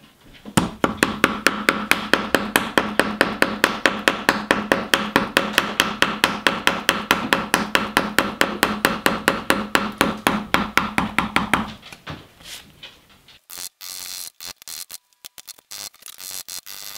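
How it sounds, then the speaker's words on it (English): A chisel is struck in a rapid, steady rhythm of sharp, close knocks as it cleans out the bottom of a bow tie spline recess in wood, then stops and gives way to a few scraping and shuffling sounds. "Now to clean out the bottom, I turn my chisel over to change the angle and get precise depth control"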